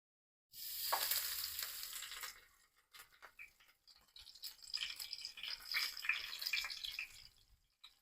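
Snacks fry in a pan for an evening village-style meal, a loud burst of sizzling oil at the start easing off, then crackling and bubbling with small stirring scrapes.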